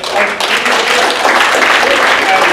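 An audience claps at a water fluoridation conference in Sydney, producing a dense, steady burst of applause close by that lasts a couple of seconds, with voices mixed in.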